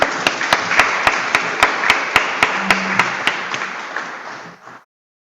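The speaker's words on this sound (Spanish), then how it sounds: "Así que le damos un aplauso, lo despedimos." An audience applauding a departing Supreme Court president at a book presentation, with steady clapping and a few sharp regular claps standing out, fading out after about five seconds.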